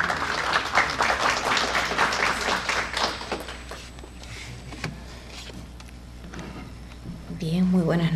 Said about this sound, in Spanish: Recibámoslo por favor con fuertes aplausos.